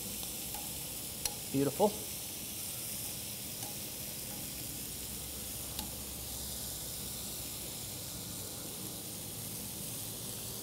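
Corn tortillas crisp in a hot pan with a steady, close sizzling hiss that runs throughout, broken by a few light clinks and a brief word from a voice.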